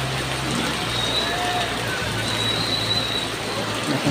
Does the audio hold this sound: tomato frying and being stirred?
no